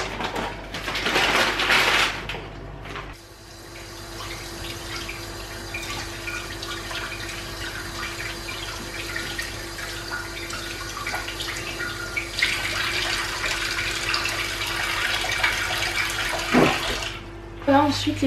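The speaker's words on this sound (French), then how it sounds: "Laver ma viande." Kitchen tap water runs steadily while meat is washed, a continuous splashing stream with brief louder bursts at the start and end and occasional handling sounds.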